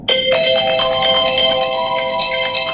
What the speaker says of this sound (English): Sorry about my phone. I have so many alerts on the phone.